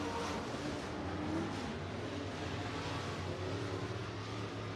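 Race cars circling Buena Vista Raceway during a heat race, a steady broad engine drone with low rumbling tones sustained throughout at moderate distance, no nearby voices.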